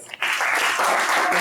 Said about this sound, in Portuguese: Palmas pra eles.